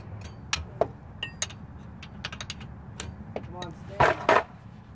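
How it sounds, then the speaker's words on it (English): Metallic clinks and ratcheting of a wrench loosening 14 mm drive shaft bolts under a car during a welded differential job, scattered sharp taps and rattles, close, with faint background noise. "when you pull out your diff, you want to take off the bolts from the drive shaft"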